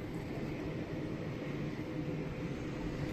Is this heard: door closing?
no